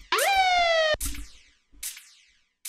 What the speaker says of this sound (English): And here the long siren.